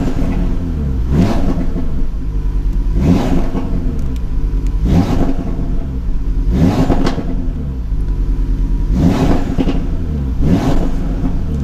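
A 2018 Audi RS3 engine revs hard in repeated surges, about six throaty rises and falls in a steady rhythm, loud and close with no talking.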